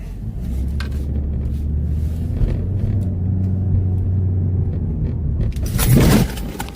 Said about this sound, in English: Well, I just crashed my fucking car.